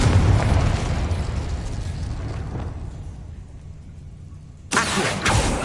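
A Confringo spell goes off in Hogwarts Legacy with a loud booming blast that rumbles and fades, then a second sharp burst near the end.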